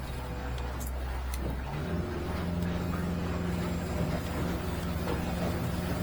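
A 2023 Hewescraft 250 Alaskan Hardtop's port outboard motor runs steadily on the water, a low droning hum that shifts pitch slightly as throttle and trim change, close and continuous.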